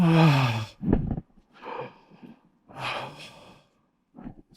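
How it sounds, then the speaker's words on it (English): A single deliberate, audible breath taken close and quiet, with soft inhale and exhale textures through the clip; a voice is heard briefly at the start. "Take a conscious breath."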